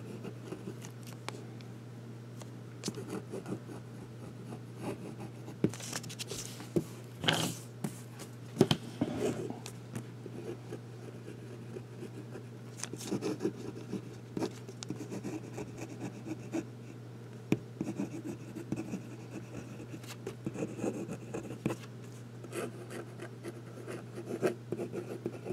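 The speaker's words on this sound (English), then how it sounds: "And we'll do some writing." A Pelikan P55 fountain pen scratches across paper in close, irregular strokes and taps with small pauses, over a steady low hum.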